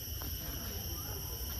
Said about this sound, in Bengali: এই সাউন্ডটাকে আপনারা অনেকেই ঝিঝি পোকা বলতে পারেন